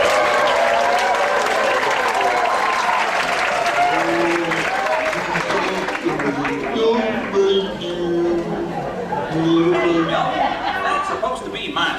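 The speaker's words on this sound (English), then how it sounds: "Now's the time to hoot and holler and clap your hands together." A theater audience at the Country Bear show in Magic Kingdom claps loudly and steadily, with hoots, chuckles and crowd chatter mixed in throughout a dense, sustained wash of applause.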